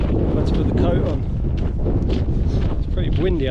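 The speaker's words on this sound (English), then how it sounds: "Windy up here." Strong wind buffets and roars across the microphone in continuous gusts on a hilltop in the Peak District, loud and close, with no clear voices.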